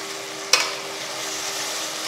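Ripe tomatoes sautéing in a pan over high heat for a Tamil rice and lentil dish, a steady close sizzle with one brief sharp clatter near the start and no talking.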